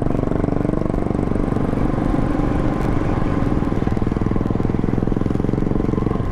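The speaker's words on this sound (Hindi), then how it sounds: "बुलेट तभी बुलेट लगती है जब उसकी आवाज़ होती है" A Royal Enfield Bullet motorcycle with a BS6 engine runs close by, holding a loud, steady, rapid thumping beat throughout with no talk over it.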